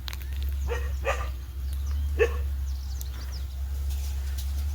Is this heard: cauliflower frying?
no